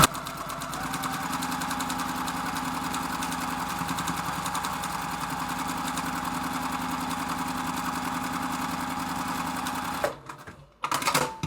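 A sewing machine runs a continuous fast stitching whir while a quilt block seam is sewn along a marked line. The motor is steady and close for about ten seconds, then stops, followed by brief handling clunks.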